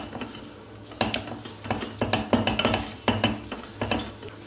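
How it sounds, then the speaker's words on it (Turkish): A whisk scraping and clinking against a pot while roasting flour until fragrant, irregular metallic taps and stirring strokes, close and moderately quiet. "Bir çırpıcıyla unumu kokusu çıkana kadar kavuruyorum."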